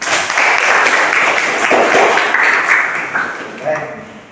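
An audience claps steadily and fairly loudly for a presenter named Bayu during a road-safety lecture, the applause sustained for several seconds before easing off near the end, with faint talk mixed in.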